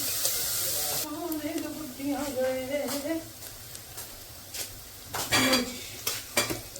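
Onions frying in a pan give off a steady sizzle and crackle, with spoon-stirring scrapes and a few sharp clinks against the pan, and a brief voice-like hum early on.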